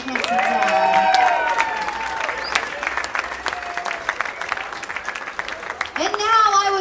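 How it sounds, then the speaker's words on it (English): Guests at a wedding reception break into applause and cheering for the bride and her father, a dense burst of clapping mixed with music, easing off midway and rising again at the close. "One more round of applause for the bride and her very handsome dad."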